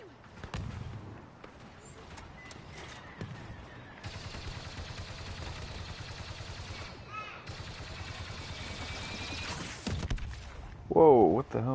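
Star Wars Battlefront 2 battle gunfire with turret and blaster shots, steady rapid firing under a player's voice, with a louder burst near the end.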